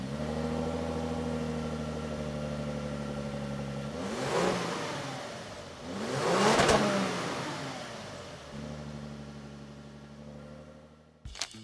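A 2014 Lexus LS460 F-Sport sedan engine with a steady idle hum, rising into two strong revs that swell and fade, then settling back to idle before a sharp click at the end.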